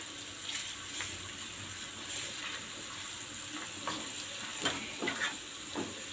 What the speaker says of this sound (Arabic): لسه بحمر في الثوم اهو